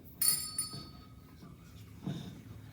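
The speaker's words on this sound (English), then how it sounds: "Thank you, Bobby, for ringing the bell." A small bell rings once sharply at a reunion banquet for a Vietnam-era cavalry unit, a bright clear strike that fades quickly, followed by faint room murmur and a softer second sound.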